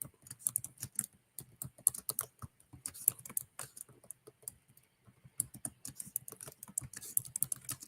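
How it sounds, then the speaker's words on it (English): Typing on a computer keyboard, a quick irregular run of light close key clicks with short pauses, heard alone without any voice. "Okay, I'm typing it in."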